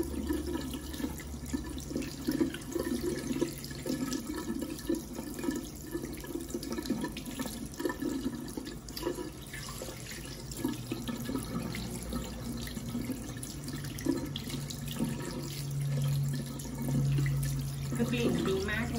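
Tap water runs steadily into a bathroom sink while a Dior Prestige sugar scrub mask, turned creamy and foamy, is rinsed off, a continuous close splashing wash throughout.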